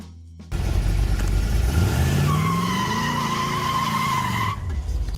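A 1970 Plymouth Cuda 440+6 muscle car engine revs up loudly, the pitch climbing and holding steady as the car accelerates close by, with a rising whine over a deep rumble.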